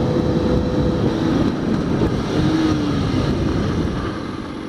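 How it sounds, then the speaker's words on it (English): A sportbike engine droning loudly up close in fourth gear over wind rush, with pitch sweeps as it double downshifts, easing off toward the end. "now we're going to fourth gear 50, and we're going to double downshift and let the clutch out this time"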